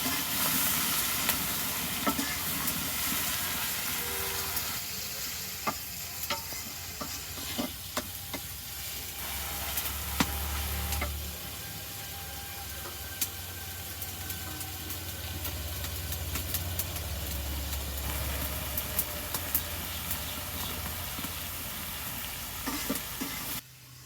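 Onions fry in a pan over a clay stove in a village kitchen, sizzling with a steady broad hiss, while spoon scrapes and stirring clatter come through now and then, close and continuous.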